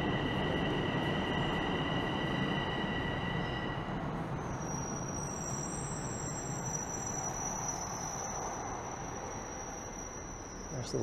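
A Toronto subway train rumbles steadily through Glencairn station, a broad continuous roar with high metallic wheel squeals and whines rising over it, loud and close throughout with no voices.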